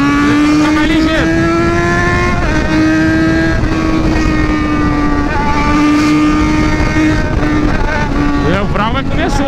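A Yamaha XJ6 motorcycle at high speed gives a loud continuous engine whine that rises and falls through gear changes, heavy wind rush behind it and no talk.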